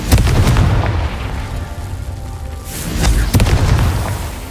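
Fiery spell explosions from the Hogwarts Legacy video game, two loud booming blasts, one near the start and another about three seconds in, each followed by a rumbling roar.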